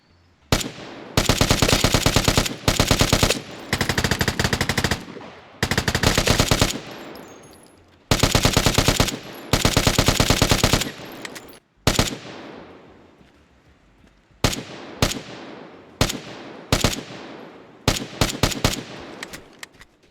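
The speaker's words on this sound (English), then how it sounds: "the first shots I did take at him, I was able to hit him" Automatic gunfire in the shooter game Vigor: repeated loud, rapid bursts of shots, several long strings then shorter volleys with brief gaps and a fading echo tail, no talking.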